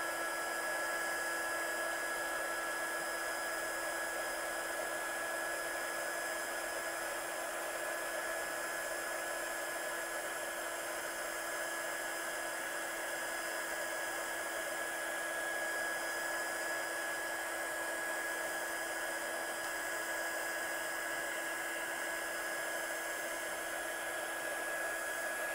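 A heat gun blows a steady, loud, unbroken whirring hum with a high whine while heat setting embossing powder on a handmade Christmas card.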